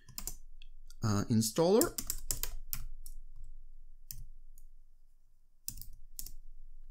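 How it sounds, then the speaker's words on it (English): Keys clacking on a computer keyboard while entering text for a malware analysis task, a quick run of light taps between stretches of nearby speech. "Okay, so let's type that in."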